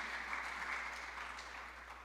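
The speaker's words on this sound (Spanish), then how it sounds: "Por lo menos desahóguese con el aplauso" Applause from a church congregation, a steady wash of many hands clapping at a soft, distant level throughout.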